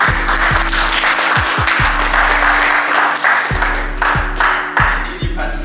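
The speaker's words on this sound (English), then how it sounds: "Can you give them a round of applause and appreciation?" Audience at a panel discussion event applauding steadily and loudly throughout, with sustained clapping from a crowd and a low tonal hum from the venue sound system running underneath.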